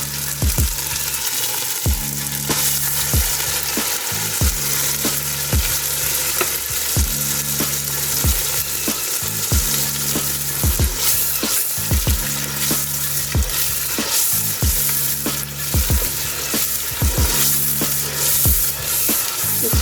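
Onion paste fries steadily in a pan for chana curry, with a loud, constant sizzle broken by regular scraping stir strokes about every second or two. No one speaks.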